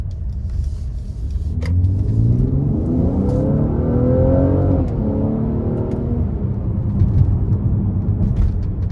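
A 2023 Mercedes-AMG GLC 43 Coupe with a twin-turbo V6 accelerates at full throttle, its engine note rising steadily in pitch and loud from inside the cabin, with no talking.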